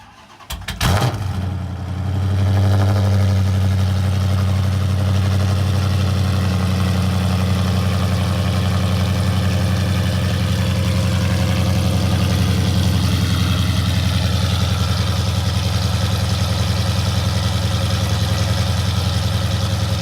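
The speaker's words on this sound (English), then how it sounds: "so the headers are on, so here's a little cold start." A 2013 Dodge Charger R/T fitted with Kooks longtube headers cold-starts with a sharp crank and catch. It settles quickly into a loud, deep, steady idle that is close by and carries on unbroken.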